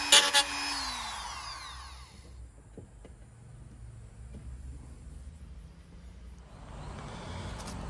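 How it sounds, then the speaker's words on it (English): Power drill boring through Land Cruiser 75 armrest door trim, a loud whining burst at the start that winds down, followed by quieter handling noises and a faint drill whir returning at the end. "So we'll start by drilling straight through the center of these."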